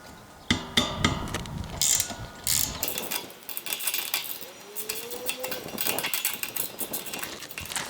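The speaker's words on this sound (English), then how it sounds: "the next thing we're going to do is take these 3 bolts out" Ratchet wrench removing the bolts from a satellite dish mount, rapid clicking ratchet bursts close by, alternating with pauses and metallic clanks, loud and irregular throughout.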